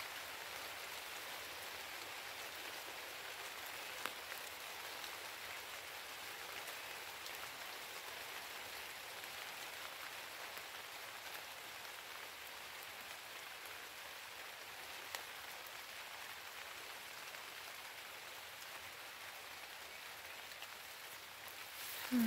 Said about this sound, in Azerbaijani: Yağış dayanmadı qızlar